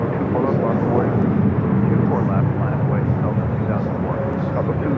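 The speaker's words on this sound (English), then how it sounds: "Also on the Nippon Airways Flight 126, coming in from Tokyo Haneda on that 787-9 Dreamliner, 5 minutes out" A Boeing 787-9 Dreamliner on ANA flight 126 from Tokyo Haneda arrives at Los Angeles LAX, its engines a steady, broad rumble that holds throughout while voices talk over it.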